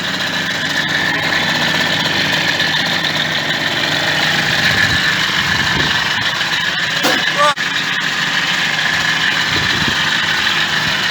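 A Yamaha DT two-stroke motorcycle engine runs steadily nearby with a buzzy, vibrating idle, loud and continuous, with a brief rev or knock partway through.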